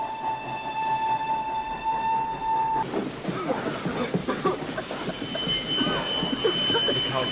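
A train in the 1993 film Schindler's List: a steady horn or whistle tone sounds first, then cuts off into a loud, continuous rumble of rolling wagons with clattering wheels and occasional squeals.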